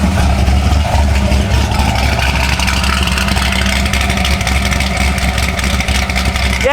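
Loud Corvette Z06 engine running steadily close by, a rough continuous roar with slight fluctuations in pitch, no voices.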